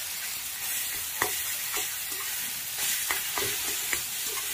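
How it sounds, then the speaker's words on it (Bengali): Chopped garlic and green chili sizzle in mustard oil while being stirred, a steady close hiss broken by scattered spatula scrapes and taps against the pan. "তারপরে একটু সর্ষের তেলের মধ্যে দিয়ে দিয়েছিলাম রসুন কুচি, কাঁচা লঙ্কা দিয়ে ভালো করে দিয়ে একটু মিক্স করে নিচ্ছি"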